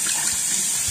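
Cold tap water runs steadily for rinsing the face, a close, continuous hiss and splash that fills the whole moment without talk.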